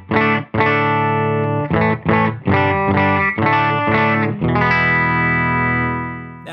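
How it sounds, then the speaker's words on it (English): A distorted electric guitar, played through a Benson Amps Monarch Reverb Plus, strums a run of choppy chords, then rings out on a final chord that fades slowly with a reverb tail. "I'm running into a Benson Amps Monarch Reverb Plus that sounds like this."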